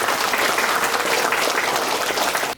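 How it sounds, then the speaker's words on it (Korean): Loud, dense applause from an audience at an academic conference welcoming a guest, a continuous wash of clapping that cuts off abruptly. "큰 박수로 환영합니다."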